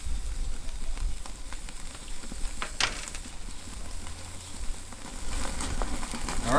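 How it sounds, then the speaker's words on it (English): A T-bone steak, brined in salt for 96 hours, sears on a grill with a steady crackling sizzle and scattered pops, fairly close and continuous throughout with no talking. "Let's sear that other side"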